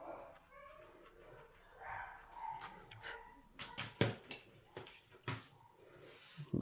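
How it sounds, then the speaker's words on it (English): Dogs yip and bark in short bursts, some muffled and distant, others sharper, amid clattering handling noises nearby. "the dogs are barking."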